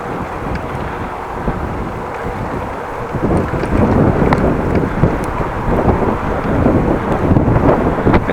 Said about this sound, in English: It's a little windy here.